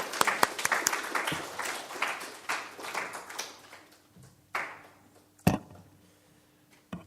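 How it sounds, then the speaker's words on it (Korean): A church congregation applauds to welcome a guest speaker, a burst of close, individual claps that thins out into scattered claps, ending with a few loud isolated claps and a low hum. "우리 박수로 한번 간사님 모시겠습니다."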